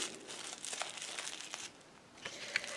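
Plastic wrap is crumpled into a bundle by hand, giving close, soft crinkling that rustles steadily for a few seconds before a brief pause and a final burst of crackles.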